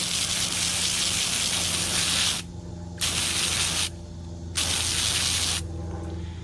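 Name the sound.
spraying water on muddy fossil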